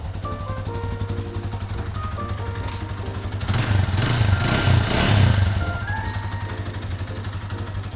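A 2016 GPX CR5 200cc motorcycle idles steadily nearby with a low, even engine hum, swelling louder for a couple of seconds mid-way before settling back to a smooth idle.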